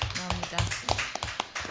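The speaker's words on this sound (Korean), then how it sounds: "박수가 저절로 나옵니다." Audience clapping at a local labor rally in Chuncheon, heard as a run of sharp, fairly close claps mixed with voices and room noise.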